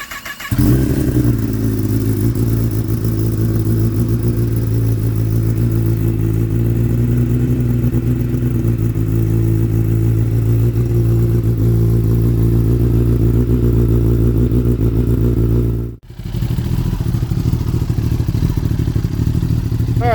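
A 2019 Kawasaki ZX10R with an Akrapovic full exhaust fires up after a brief start and settles into a loud, steady, throbbing idle close by, with a short dip near the end before the idle resumes.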